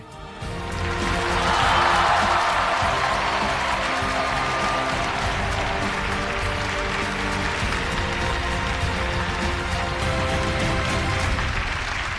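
An audience on a Tibetan plateau stage claps steadily to welcome a singer, a broad, even wash of applause that swells at the start and holds throughout.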